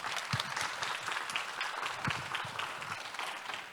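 Applause welcoming a guest at a startup investment event, a continuous, moderately loud wash of many hands clapping with a few heavier low thumps.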